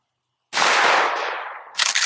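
A 12-gauge shotgun fires buckshot at a target five yards away: one sharp, loud close-range blast after a moment of silence, fading over about a second, then a brief rattling burst.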